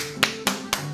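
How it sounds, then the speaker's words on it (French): Three sharp single hand claps spaced evenly about a quarter second apart, close and crisp against quiet room tone, no talking. "Il a juste applaudi."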